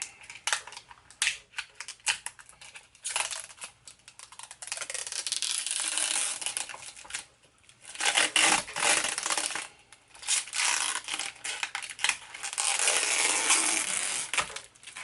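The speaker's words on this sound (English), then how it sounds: "I didn't want to deny you the satisfaction of the pickguard plastic coming off" Protective plastic film is peeled off a baritone Telecaster pickguard, a close, crackling, tearing rustle in several uneven bursts with short pauses, fairly quiet overall.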